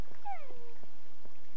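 A Minecraft wolf puppy whines in a short, high, falling whimper, then a fainter second cry, close and alone with no voices.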